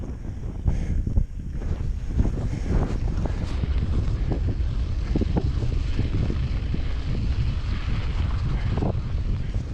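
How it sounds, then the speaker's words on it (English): Cold, biting wind on a snowy Pennines hilltop near wind turbines roars steadily against the microphone, a loud continuous buffeting rumble with gusty bursts and no voices. "that wind's cold and biting"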